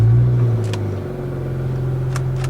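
A Nissan Skyline GT-R pulls away, its engine a close, deep, steady rumble that eases off slightly after the first second and then holds low and even.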